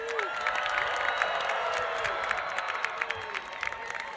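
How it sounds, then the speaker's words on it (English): A crowd applauds graduates at the 2023 TCNJ School of Engineering commencement ceremony, with steady, moderately distant clapping and scattered cheers, and a voice briefly audible over it. "of applause for our graduates."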